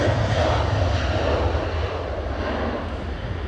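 An Air France HOP Embraer 190 jet climbs away after takeoff at windy Edinburgh Airport, a loud, steady engine roar with broadband rush that holds throughout, easing only slightly toward the end.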